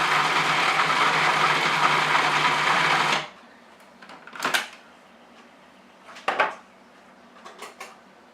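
Food processor pulsing deviled egg filling: a steady dense motor whir for about three seconds, then stops, followed by a few brief clinks and scrapes of a utensil.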